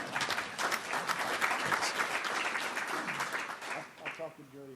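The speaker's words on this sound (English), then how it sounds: "Give him a round of applause" Audience applause fills a community council meeting, a dense wash of clapping that carries on for several seconds and tapers near the end.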